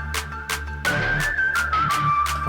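A high, sustained whistle melody in a song glides over a rhythmic musical backing with regular percussive beats.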